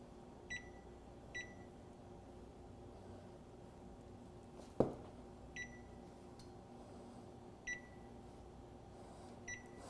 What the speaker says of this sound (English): And I'm going to set the timer for 5 minutes.